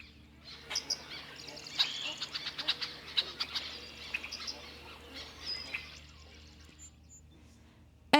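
Birds chirp and call in a busy scattered series from a nature sound track of ducks, geese and loons, then fade to quiet near the end.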